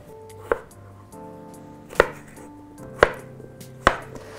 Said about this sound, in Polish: Ziemniaków nie musimy kroić na malutkie kawałki, ale im będą mniejsze, tym szybciej się ugotują.